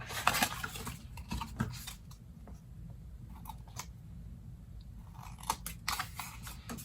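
Scissors snip through the paper overhang on a handmade album, a few crisp cutting clicks in a quiet room with no talking.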